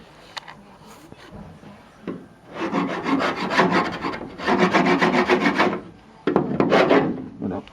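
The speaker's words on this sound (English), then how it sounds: "So yeah, so let's just have a bit of a scrape back, shall we?" Hand scraping of dried mud off the body of a Ford Mk1 Escort van, rough rasping strokes in a few bursts of about a second or two each, close and fairly quiet, with short pauses between.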